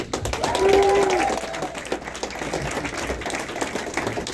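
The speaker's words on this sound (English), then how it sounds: "let's give them a round of applause" Wedding reception guests clap for the bride and groom, a swell of applause that peaks early and then thins into scattered claps, with a brief sustained tone in the background.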